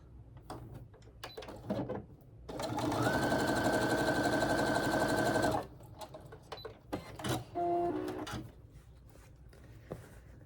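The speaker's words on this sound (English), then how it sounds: "sew that on there, right sides together. And let's give that a stitch." A sewing machine stitches quilt fabric pieces right sides together, running in one steady whirring burst of about three seconds, framed by quieter clicks and handling of the fabric and a brief mechanical whir afterward; no talking.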